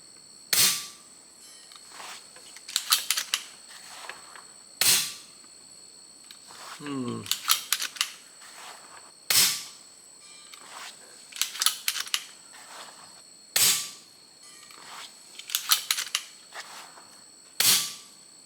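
Umarex Notos G2 air rifle fires pellets in sharp, close cracks, about six shots spaced a few seconds apart, each followed by brief mechanical clicks of cocking or handling.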